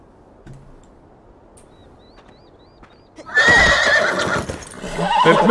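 A horse neighs loudly in the video game Beyond Two Souls, a sudden whinny bursting in after a quiet stretch, with clip-clop hoofbeats mixed in.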